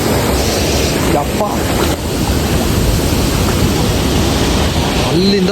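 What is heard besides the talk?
waterfall rushing water, Honnammanahalla falls in monsoon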